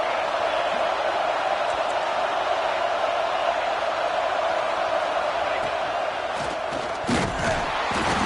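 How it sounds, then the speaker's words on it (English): Broad, steady roar of a football stadium crowd at a Penn State vs UCLA college game, loud and continuous throughout, with a swell of louder shouting near the end. "This crowd going to try to make life miserable for these guys."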